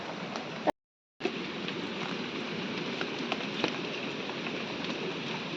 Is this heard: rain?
yes